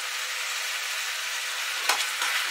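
Pork with jeera (cumin) cooking in a pot gives a steady, close hiss of frying that runs throughout, broken by a couple of short stirring scrapes near the end.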